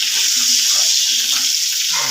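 Dried fish (buwad) fries in a pan with a steady, fairly loud sizzle and crackle that holds evenly throughout, with a few faint low clinks beneath it.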